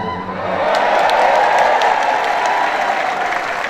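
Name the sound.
audience applause at Christmas celebration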